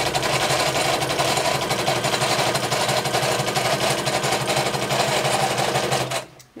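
A sewing machine stitches down an envelope in a fast, steady mechanical chatter close by, running continuously for several seconds before abruptly stopping.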